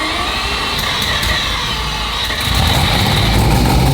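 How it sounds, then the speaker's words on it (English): Mazda RX-7 fitted with a four-rotor engine, cranking and struggling to fire while fuel floods in: a loud, steady mechanical drone that grows heavier and rougher partway through, with no clean catch. "we're just flooding the tank with gas just to see if we're going to fire"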